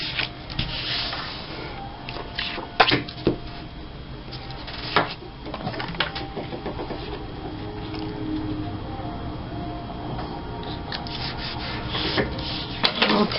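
Scrapbook paper being trimmed, with rubbing and scraping strokes and a few sharp taps, fairly close and continuous without speech.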